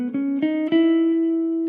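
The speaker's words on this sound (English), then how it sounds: "So a typical major scale would sound like this." A guitar plays a few single notes of a major scale, each plucked note stepping upward and sustaining cleanly into the next, close and alone.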